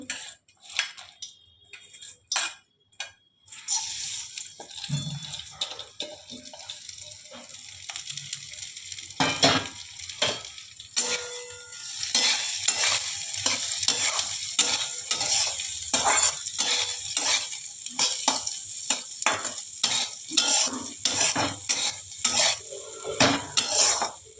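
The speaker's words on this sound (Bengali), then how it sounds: "মসুর ডালটাকে ভাজা হয়ে গেছে" Masoor dal is fried in oil in a pan. A spatula scrapes and clatters against the metal in a steady repeated rhythm over a gentle sizzle, close and fairly loud, with no voices.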